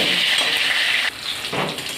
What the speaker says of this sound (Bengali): এর মধ্যে আলু পেঁয়াজ আর গোটা রসুন যেগুলো ছিল একটু হলুদ লবণ দিয়ে এগুলো এখন ভেজে তুলে নিচ্ছি